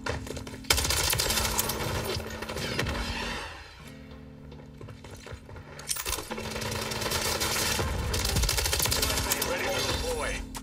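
Rapid bursts of automatic fire from an MTZ 556 assault rifle in Modern Warfare 3, long sustained strings of shots broken by a short pause, with a player talking over the gunfire.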